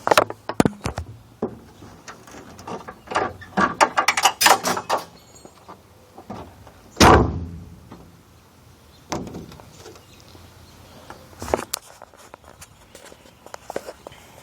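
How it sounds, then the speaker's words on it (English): The hood comes off a 1991 Ford Mustang notchback drag car, heard as scattered close clunks, metallic clicks and rattles with quiet pauses and a louder thud midway. "Go and take the hood off."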